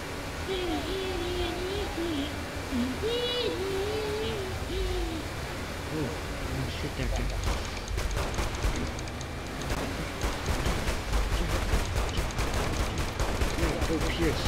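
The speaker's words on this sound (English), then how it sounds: "Shoot that guy. Go Pierce, you shoot them." Gunfire in the video game Saints Row: The Third, a dense run of rapid shots in the second half, mixed with game ambience and speech earlier on.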